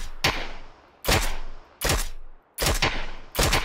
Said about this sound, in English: Gunshots. Shot at me.